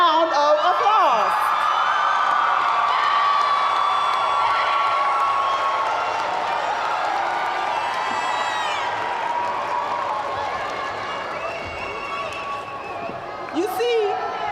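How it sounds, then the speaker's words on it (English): A commencement ceremony crowd cheers, whoops and applauds loudly and steadily for the full stretch, with shouts and yells rising above the roar, easing slightly near the end before a final burst. "stand up and give your family and friends who have been there to support you along the way a roaring round of applause."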